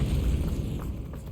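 A Confringo spell explodes in Hogwarts Legacy, a deep, rumbling boom that starts strong and fades slowly over about a second, with no voices.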